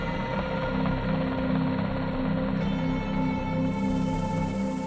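An SH-60 Seahawk helicopter drones steadily and loudly throughout, its rotor hum constant and close with no pauses.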